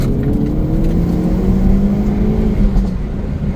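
2024 Hyundai Elantra N during its break-in period, heard from inside the car as a loud, steady engine drone under acceleration with a rising tone, without any clear distinct exhaust pop.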